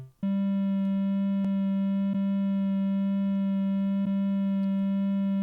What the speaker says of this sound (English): It's auto panning the sound left and right.